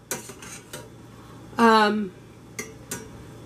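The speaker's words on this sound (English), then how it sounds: "We're going to melt the cheese up, stirring constantly." A spoon clinks and taps against a pot while cheese sauce with milk, salt and pepper is stirred: a few sharp, close metallic knocks spread over a few seconds, with a short voiced sound in the middle.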